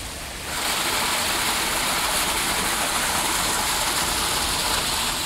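A low-flowing river in Barbados during the dry season spills over small rocky waterfalls and pools, a steady close hiss of rushing water that starts abruptly and holds constant.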